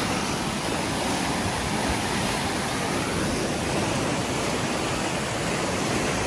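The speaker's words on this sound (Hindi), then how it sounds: "पानी का शोर बहुत है" Loud, continuous roar of rushing river water in Kalam Valley, Swat, Pakistan, dense and unbroken throughout, close by and steady.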